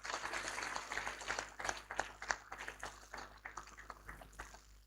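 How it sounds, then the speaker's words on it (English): An audience at an event applauds an introduced guest with a moderate, uneven patter of clapping over a low steady hum, fairly faint and somewhat distant. "A round of applause, please."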